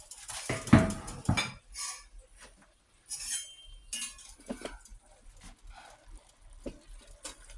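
A pot lid and pans clink and clatter in a kitchen while cabbage cooks, a few sharp metallic knocks up front followed by lighter scattered clinks and faint liquid sounds, with quiet gaps between.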